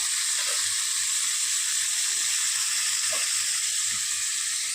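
Chana dal sizzles and fries in a pan, a steady hiss with faint crackles and pops, close and continuous.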